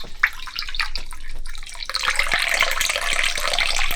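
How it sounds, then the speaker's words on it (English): Liquid is poured from a height into a mug, a continuous splashing stream that grows fuller and louder partway through, close and with no talking. "I don't have to pour it from that high, but it's music to my ears"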